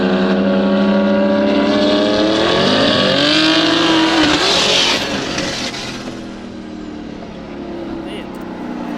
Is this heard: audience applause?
no